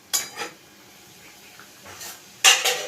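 A metal lid goes onto a pot of chicken curry cooked with ghee, making two pairs of close, bright clanks separated by a quiet pause.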